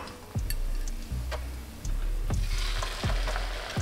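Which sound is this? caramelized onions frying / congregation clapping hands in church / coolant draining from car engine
caramelized onions frying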